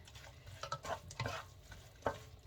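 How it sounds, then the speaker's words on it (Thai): Salted egg and dried shrimp being stir-fried in a pan, with a few soft scraping stir strokes and faint sizzling, quiet and close. "เราจะผัดรอบนี้อีกรอบหนึ่งนะคะ"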